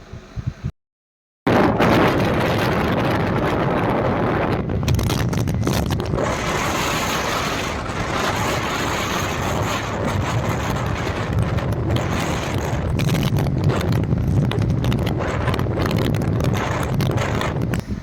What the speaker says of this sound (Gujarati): પવન બહુ આવે છે.